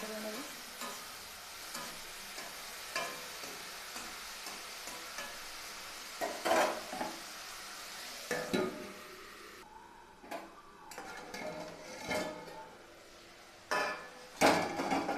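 Snake gourd fry is stirred in a pan on a low gas flame, a soft sizzle under repeated scraping and knocking of a spatula against the pan, with louder clatters toward the end.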